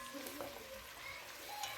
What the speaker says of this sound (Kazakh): Етімізді қызарғанша қуырып